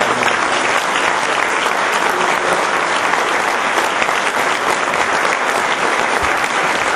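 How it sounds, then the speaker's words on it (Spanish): Dense, steady applause from a seminar audience fills the room for several seconds at a national public budget seminar, loud and continuous with no talking over it. "vamos a darle un caloroso aplauso a Juan Pablo Jiménez"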